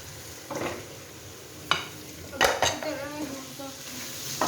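Spices tipped into pasta in a cooking pan and stirred, with a few scraping clinks of a utensil against the pan and soft sizzling beneath, close and moderately quiet.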